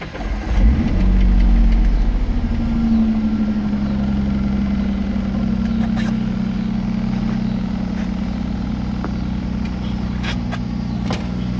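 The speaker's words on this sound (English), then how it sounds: "It's the engine on a 2000 Ford Mustang." A 2000 Ford Mustang V6 with about 87,000 miles cranks and catches, then settles into a steady, close, loud idle with a low, even rumble and no talking.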